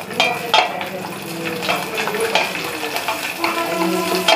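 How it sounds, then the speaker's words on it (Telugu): Cashews and raisins fry lightly in ghee, giving a steady close sizzle broken by scrapes and clinks of a spoon stirring against the pan. "ముందు కొంచెం నెయ్యి వేసుకొని జీడిపప్పు కిస్మిస్ వేయించుకొని"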